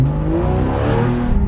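A 2013 Porsche 911 Carrera S Cabriolet engine and exhaust hum loudly while driving, a steady near tone that climbs slightly in pitch as the car pulls forward.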